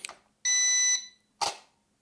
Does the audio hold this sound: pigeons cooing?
no